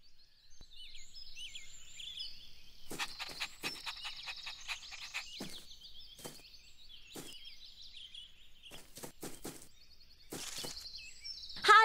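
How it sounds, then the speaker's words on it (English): A puppy panting close by in an outdoor nature setting, with rapid rhythmic breath bursts in clusters, while birds or insects chirp steadily in the background; no talking. "this is my puppy, Hero."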